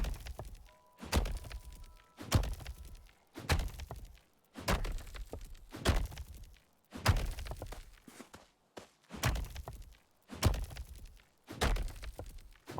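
Iron ore mined in the video game MUCK, a regular series of about ten dull, thunking pick strikes spaced roughly a second apart, close and moderately loud with no talk.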